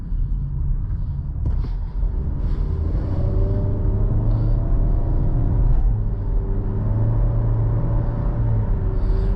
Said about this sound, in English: The engine doesn't have a whole lot of pickup off the line.